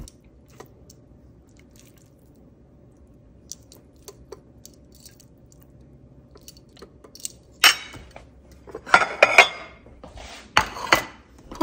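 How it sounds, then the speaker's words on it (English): Shredded beef goes into a low-carb Chipotle-style bowl with pico de gallo. After a quiet stretch come wet, squishy spoonfuls and clinks against the dish, several close-up bursts near the end with no speech. "And now some of my shredded beef."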